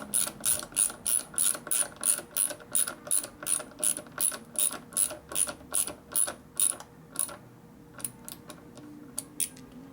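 A ratchet turns in a steady run of sharp clicking strokes while tightening a bolt during a Harley FL shovelhead stroker motorcycle build, close and clear, slowing to a few scattered clicks near the end.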